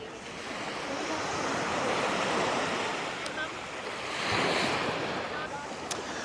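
Surf and gusting wind at Clifton Beach roar continuously, with waves washing in and swelling louder midway through.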